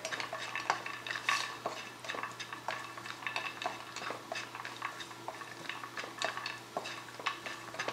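Cashews are stirred in a hot pan for mutton biriyani, a utensil tapping and scraping in quick, irregular close strokes over a faint sizzle.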